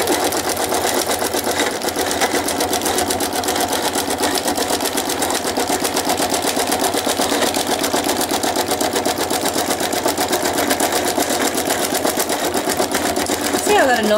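A sewing machine runs steadily for the whole stretch, its rapid needle strokes stitching thread in an even, continuous mechanical chatter, loud and close.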